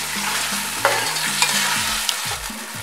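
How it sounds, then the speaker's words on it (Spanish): Vegetables sautéing in a pan for Dominican-style salt cod stew give a steady close sizzle, with scraping stirs and a few sharp clinks of a utensil against the pan. "Vamos a sofreír por un minuto."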